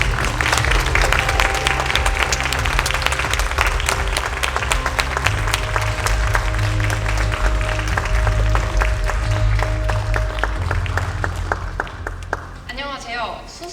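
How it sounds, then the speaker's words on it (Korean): A seated audience at a Hyundai hydrogen fuel-cell concept car unveiling gives a long, dense round of applause welcoming a researcher to the stage, steady and loud before tapering off at the end, with music underneath. "큰 박수로 환영 부탁드립니다."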